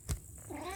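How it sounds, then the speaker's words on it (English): A house cat gives a brief, faint meow in the background, one short call rising and falling under near silence. "sorry if you hear my cat in the background"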